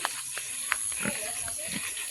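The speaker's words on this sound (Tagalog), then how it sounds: "baboy ni Mary Ann" A pig grunts in short, scattered bursts close by in a rural setting, over a steady high-pitched background hiss, with voices talking faintly around it.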